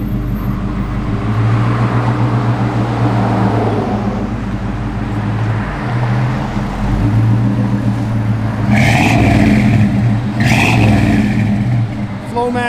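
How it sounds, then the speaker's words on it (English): A 1972 Chevrolet Blazer K5 engine with Flowmaster dual exhausts idles with a steady deep rumble, rising briefly in a couple of revs near the end, close and loud throughout. "Flowmaster duals, they sound real good"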